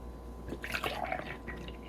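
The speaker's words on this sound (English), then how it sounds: "You gotta get your mixing spoon. You gotta pour milk" Milk is poured while cooking, a faint, soft liquid trickle and splash lasting about a second against a quiet, steady background hum, with no talking.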